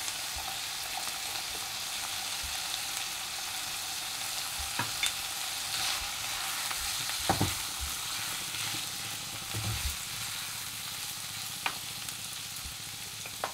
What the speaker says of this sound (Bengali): আমার চিকেনটা সুন্দরভাবে আমি কষে নিয়েছি